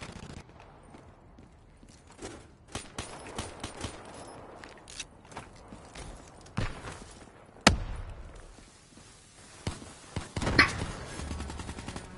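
A shooter video game's new gun fires in scattered sharp bursts, some single cracks and some rapid strings, loud and close against quieter background noise, with no talk.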